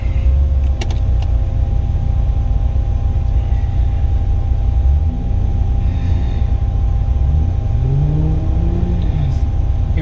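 An off-road rig revs hard in a steady, loud engine drone as its tires spin and slip on a slick muddy ledge, the pitch rising and falling with throttle pushes near the end.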